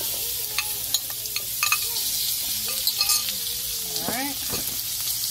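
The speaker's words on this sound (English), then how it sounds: "put it on the griddle so you could have some little grilled potatoes" Garlic potatoes sizzle on a flat griddle in a steady close hiss, broken by scraping and spatula clinks while they are moved around, with brief speech in the middle and a man's short word near the end.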